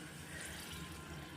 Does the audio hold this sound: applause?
no